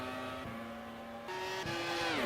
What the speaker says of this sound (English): Sounds like someone's constantly starting a car.